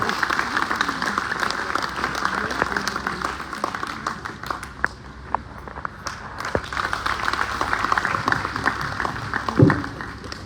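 An audience at a kavi sammelan poetry gathering in Faridabad claps in a thin, scattered patter that goes on steadily, with occasional louder claps and a sharp knock near the end.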